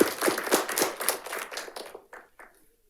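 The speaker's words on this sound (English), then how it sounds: "So let's give her a round of applause" Applause at a Folsom Cordova Unified School District board meeting: a short burst of clapping from a small crowd that thins out and fades to a few scattered claps within about two seconds.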